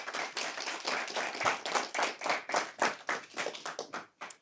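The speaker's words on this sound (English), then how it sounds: "Y'all give them a round of applause" A small audience claps to welcome two guests onto a podcast episode, a fairly quiet, close burst of individual hand claps in an uneven rhythm that thins out and stops near the end.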